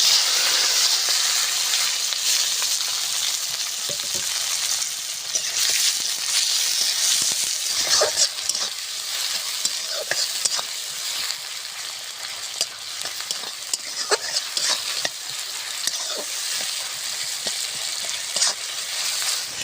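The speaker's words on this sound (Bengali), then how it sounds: "কড়াই সর্ষে তেল দিয়ে দিয়েছি, ফোড়ন করে নেব" Whole spices, bay leaf, dried chillies and chopped onion and tomato tempering in mustard oil in a wok for a taro kofta curry, a steady loud sizzle and hiss with occasional stirring scrapes, no talking.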